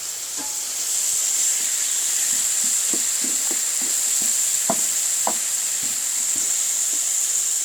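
Bacon crisping in a pan gives a steady, close sizzle with scattered pops and scraping stir sounds, no voices.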